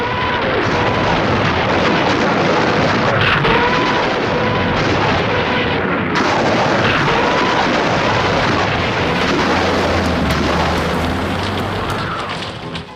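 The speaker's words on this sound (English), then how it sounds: "Soviet shells and rockets disrupt final German preparations" A dense, continuous barrage of Soviet artillery shells and rockets rumbles and roars without pause, loud and close, a wall of booming blasts sustained throughout with no voices.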